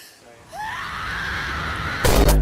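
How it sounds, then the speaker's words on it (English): A high, rising scream in a song, sustained for about a second and a half before a loud crashing hit lands under it. "Shinji's scream"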